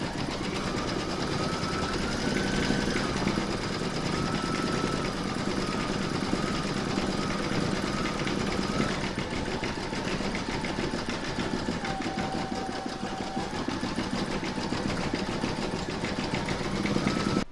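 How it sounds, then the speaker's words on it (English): An embroidery machine stitches a section of an in-the-hoop mandala placemat, a steady mechanical whirring hum with fast needle chatter running continuously and close, its pitch shifting slightly as stitching speed changes. "Next, you're going to stitch the third section down with round number 10."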